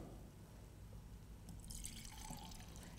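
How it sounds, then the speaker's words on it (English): Wine is poured into another glass in a quiet room, a faint liquid trickle and splash rising briefly midway. "if we pour that into the other glass,"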